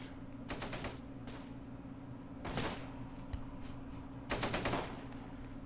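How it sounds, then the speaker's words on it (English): Close Combat video game gunfight between infantry squads: short, rapid bursts of machine-gun fire, with three main volleys and a lone crack between them, at moderate volume over a steady low background hum. "right now it really is just a gunfight between our men and their men"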